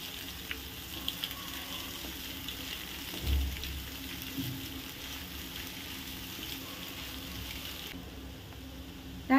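Grated egg sautés in oil in a pan with a steady, soft sizzle and occasional stirring scrapes, close and without talk.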